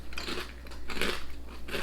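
UK crisps being bitten and chewed up close, a series of sharp, loud crunches in quick irregular succession.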